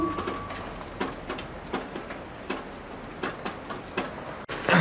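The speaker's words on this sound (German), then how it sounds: "Auf den Regen." Rain falls on a camp and roof tent in Norway: steady soft patter with scattered heavier drops tapping at a moderate distance, and a sharp knock near the end.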